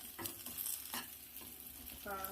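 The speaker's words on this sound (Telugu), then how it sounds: "ఇంకో నిమిషం వేగనిద్దాం" Chopped ivy gourd (dondakaya) frying in a pan, with a steady soft sizzle under a few scraping stirs and a brief clatter near the end.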